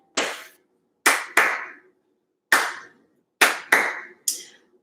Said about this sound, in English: clap it out with me